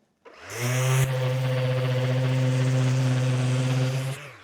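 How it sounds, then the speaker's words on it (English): A loud, steady motorized whine of a power sander running continuously on a guitar body, starting abruptly and cutting off after about four seconds, with one brief click. "Sanding."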